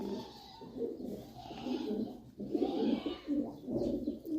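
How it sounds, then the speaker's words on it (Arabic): Hungry pigeons in a loft coo steadily in low, overlapping rounds, with a few soft chirps mixed in, close by and moderately loud with no talk. "كله يقول لك لشوية الحمام الحلوين دول. طبعا هم مش هيسكتوا، جعانين."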